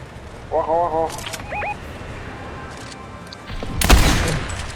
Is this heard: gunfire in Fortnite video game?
yes